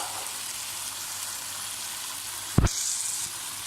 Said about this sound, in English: Cook again until stock dry. Now add half kg boiled mutton.